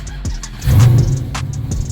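A Dodge Challenger Hellcat engine running E85 fuel cranks with a few sharp clicks and then catches into a loud, low rumble that keeps running steadily nearby.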